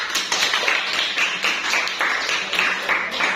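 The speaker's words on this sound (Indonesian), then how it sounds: "tepuk tangan untuk si Liza" Classroom students applaud a classmate, a dense patter of many hand claps in uneven bursts, fairly close and sustained throughout.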